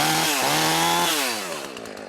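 A Jonsered 50cc chainsaw running close by, its engine revving high then dropping back, a steady buzzing whine with pitch swings and no talk over it.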